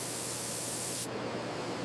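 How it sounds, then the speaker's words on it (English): Automated nozzles in a pencil factory spray high-gloss lacquer onto pencils, a steady broadband hiss that cuts off abruptly partway through and leaves a duller background hiss. "Automated nozzles apply multiple layers of high-gloss lacquer for a flawless finish."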